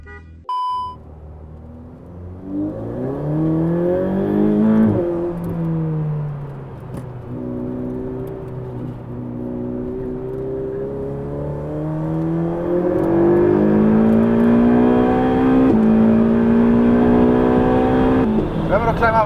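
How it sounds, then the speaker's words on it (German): A 720 PS Ferrari 488 Pista engine revs and climbs steadily in pitch, loud and close, with occasional voices talking over the growing roar. "Also das Klangbild vom Motor ist sehr gut."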